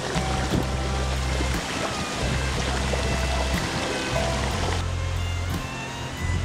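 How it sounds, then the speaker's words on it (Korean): Clear mountain valley stream water rushes steadily in Seoraksan's Cheonbuldong valley near Biseondae, a constant broadband wash close by, with a low rumble coming and going. "맑은 계곡물 흐르는 소리를 들으면서"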